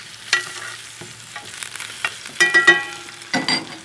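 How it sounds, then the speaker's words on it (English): Sous vide pork chops searing and being basted with melted fat in a hot pan: close sizzling with spoon scrapes and clinks in quick, irregular bursts, no speech. "just to sear and baste."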